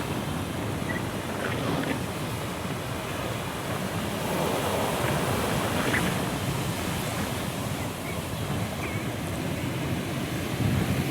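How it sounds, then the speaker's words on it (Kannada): Sea waves break at Ullal beach near Mangalore in a continuous, rolling roar. Wind buffets the microphone throughout. "ನೀರಿನ ಅಲೆಗಳು ತುಂಬ ಇದೆ ನೋಡಿ,"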